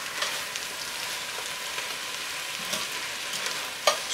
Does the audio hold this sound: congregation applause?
no